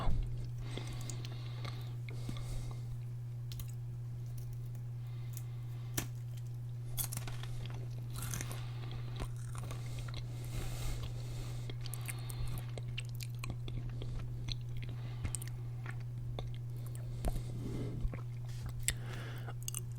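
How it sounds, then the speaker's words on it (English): Crackers being munched close to the mouth in a quiet ASMR setting, with soft, steady crunching and chewing running throughout over a constant low hum. "I'm gonna keep munching on these crackers"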